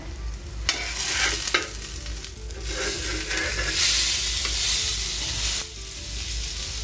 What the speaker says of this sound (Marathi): आणि छान असं भाजून घेऊया त्या साईडनं